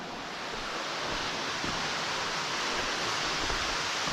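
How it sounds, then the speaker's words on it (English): Roaring waterfall at the end of an underground canyon, about 300 feet tall, producing a steady, loud, broadband rush of falling water that fills the whole clip without pause or voices. "made it to the waterfall"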